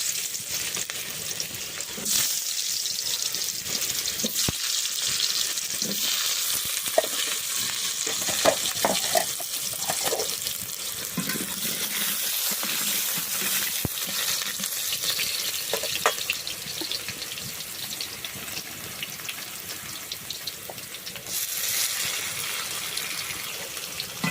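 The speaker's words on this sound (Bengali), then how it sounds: "প্রথমে আমি আলুগুলো ভেজে নিচ্ছি" Potatoes frying in a pan for a snakehead fish kalia, a steady close sizzle with intermittent scraping stirs, no talking.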